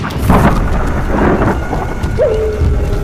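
Thunderstorm sound effect with heavy rain, a deep rolling rumble of thunder over steady downpour and wind, loud and continuous with no voices.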